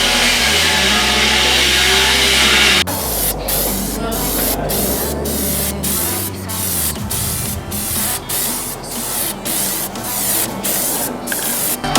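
Plasti Dip is sprayed in coats onto a Volkswagen Golf, first as a long continuous hiss, then as a quick series of short, evenly spaced spray bursts, loud and close.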